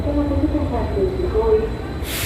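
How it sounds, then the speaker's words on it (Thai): A train arriving at a station in Athens, Greece, rumbles in low and steady beneath murmuring voices, ending with a sharp burst of hissing air. "รถไฟมาแล้วนะคะ"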